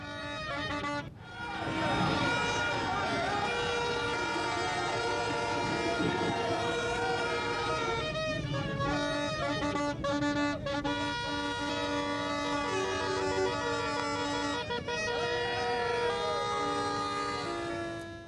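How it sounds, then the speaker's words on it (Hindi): Many car horns blare and honk together in a loud, sustained din at a street protest, overlapping tones of different pitches, with a brief dip near the start. "ये जो हॉर्न बज रहे थे, तरह तरह के बाजों की आवाज़ें आ रही थीं"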